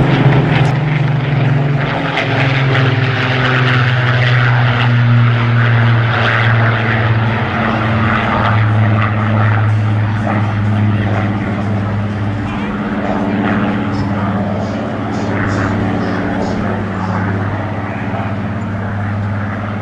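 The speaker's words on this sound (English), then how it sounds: "Mark 19, an unarmed high-altitude reconnaissance aircraft, one of a batch of 79 Mark 19s built at Supermarine in Southampton." A Supermarine Mark 19 unarmed high-altitude reconnaissance aircraft flying past at the Bournemouth Air Festival, its loud propeller engine droning steadily as a commentator speaks over it.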